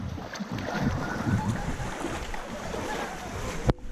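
A boat drifting on the water at Khao Sok, with a steady washing rush of water and wind close by and a sharp knock near the end.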